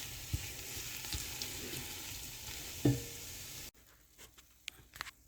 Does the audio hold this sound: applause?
no